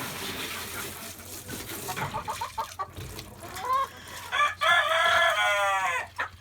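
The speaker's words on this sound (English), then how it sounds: "that rooster really wants to tell you something" A rooster crows loudly and close by, a long cock-a-doodle-doo in the second half, following some clucking and barnyard noise at a chicken feeder.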